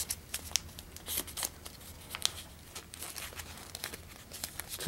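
Origami paper being folded and creased for a modular octahedron, soft close crinkling and crisp rustles in irregular bursts, with no voice over them.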